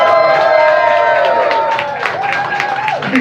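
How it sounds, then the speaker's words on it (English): An audience claps and cheers for James from Starsailor at a live listening party, with steady applause and crowd noise underneath a sustained tonal sound that holds through the clip. "big round of applause for James Starsailor,"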